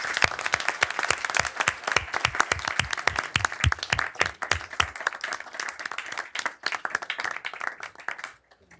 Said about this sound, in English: please join me in giving them both another round of applause